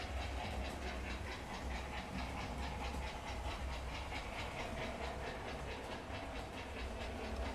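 Steady clickety-clack of model locomotives running along a model railway track, with a continuous hiss and rhythmic rail clicks, fairly quiet and without voices.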